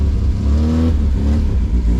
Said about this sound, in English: Full choke. Bit of throttle on the engine.